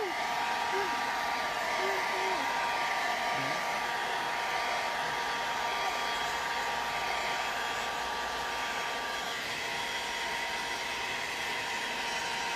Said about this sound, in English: So here goes my hairdryer again.